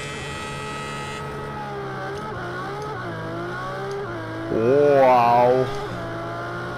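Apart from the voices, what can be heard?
Ferrari FXX K engine revving, video game Project Cars 2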